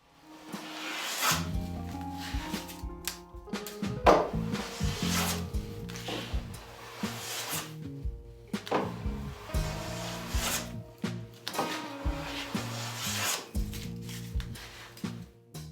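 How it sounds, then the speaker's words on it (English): A hand plane works the edge of rough sawn wood to square it, giving repeated rasping strokes in a steady rhythm, close and moderately loud, with brief pauses between passes and no talk. "If using rough sawn wood, first square off one edge, as the final width will be measured from that edge."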